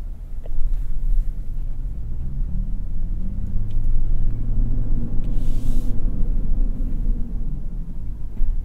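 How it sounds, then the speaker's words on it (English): A 2022 Toyota Tundra TRD Pro drives slowly off-road through holes, giving a continuous deep engine and cabin rumble that swells and eases as the truck undulates, with no talk. "Check out these holes we're about to drive through."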